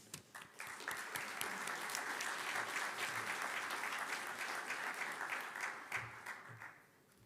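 An audience at an energy conference applauds to welcome a speaker, a sustained, even wash of clapping from many hands that tapers off at the end.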